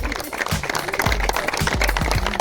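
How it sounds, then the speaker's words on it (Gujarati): Audience clapping at the prize ceremony of a staff cricket tournament, a short burst of scattered, irregular claps close by. "તાળીઓ થતી રહેવી જોઈએ."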